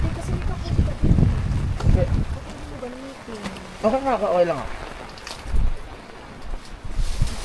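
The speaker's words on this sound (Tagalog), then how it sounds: "Grabe yung hangin talaga dito sa Goat Cliff, diba?" Strong gusting wind buffets a campsite at Goat Cliff in Atok, Benguet, during a typhoon, rumbling in rough waves against the microphone while a person talks briefly in the middle.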